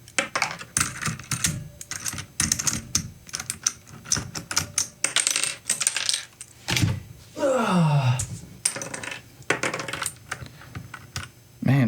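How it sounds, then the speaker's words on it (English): Keycaps snapping off a Keychron C1 mechanical keyboard, a rapid run of sharp plastic clicks and clacks close by, with a brief rattling scrape partway through. "first thing is to pop off the keycaps once again"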